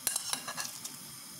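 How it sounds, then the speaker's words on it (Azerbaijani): Two chopped onions tip into a pot of boiling meat for bean soup, giving a short burst of soft clinks and scraping thuds followed by a faint bubbling hiss. "İndi mən doğradığım 2 baş soğanı bura əlavə edirəm."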